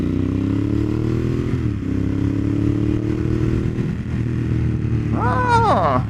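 Ducati Monster 1200S motorcycle ridden hard, the engine note climbing through gears with a shift dip, then a sharp rising rev at the end, loud and close under wind noise.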